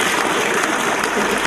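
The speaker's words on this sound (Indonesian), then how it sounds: "Kita tepuk tangan dulu." Indoor audience at an Islamic religious lecture in Indonesia breaking into steady, dense applause, loud and close, filling the whole moment without pause.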